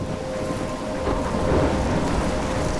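A steady thunderstorm in the video game Life Is Strange, with dense rain hissing on surfaces and a low rumble of thunder swelling midway, continuous and enveloping with no voices.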